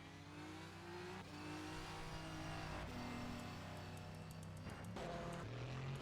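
Race car in rFactor 2 pulling out of the pits at Le Mans, engine rising in pitch through repeated upshifts, loud and continuous from start to finish.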